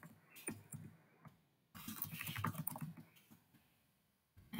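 Keystrokes on a computer keyboard while entering account registration details, with quick bursts of close, light clicks, a short pause, a longer run of typing, then another pause.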